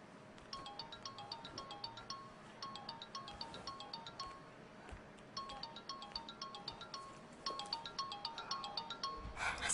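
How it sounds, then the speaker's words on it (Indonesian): A mobile phone ringtone plays in an Indonesian film scene, a repeating chime melody in regular bursts, fairly quiet and with no talk. "Boleh saya terima telepon dari Mas Arga?"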